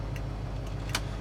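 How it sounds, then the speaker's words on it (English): Turn signal indicator in a 1965 Ford Mustang clicks a few times at a slow, regular tick over the low rumble of the idling engine. "So the turn signal indicator is the same for the driver and the passenger side."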